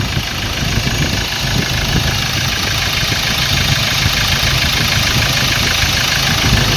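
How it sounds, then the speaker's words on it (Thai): A 2015 Ford Ranger 2.2 diesel pickup with automatic gearbox idles steadily and loudly up close, a constant low rumble and clatter with no change in pitch. "เสียงเครื่องยนต์สวยมากๆเลยนะครับนะนิ่มมากๆเลย"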